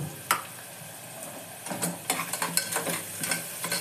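Onions frying in a pan with turmeric and salt, stirred by spoon for a Telangana-style mutton curry: a steady close sizzle broken by several sharp scraping stirs and utensil clinks.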